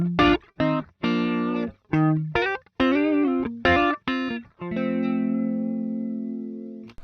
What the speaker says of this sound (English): at the moment I'm just using the clean amp with the overdrive.